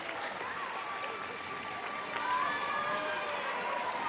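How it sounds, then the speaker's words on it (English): Texas Tech fans give light applause in the stands at a college softball game against Kansas, a steady diffuse crowd patter under the faint murmur of the stadium. "Riasetto gets a little bit of an applause from the Texas Tech fans in attendance."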